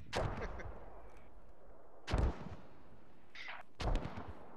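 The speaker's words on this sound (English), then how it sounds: "There's mortars coming." Three heavy, booming mortar impacts land about two seconds apart in the Squad video game, each a deep blast with a short rumbling tail and nothing else between.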